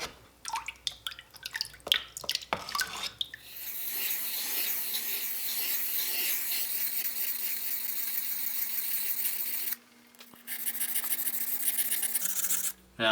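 A steel chisel is rubbed across a wet 800 grit whetstone, first in a few quick scraping strokes, then a long sustained rasping hiss that breaks off briefly near the end and resumes.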